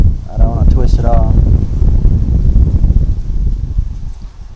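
Gusty wind buffets the microphone outdoors with low rumbling bursts, while a person briefly talks near the start.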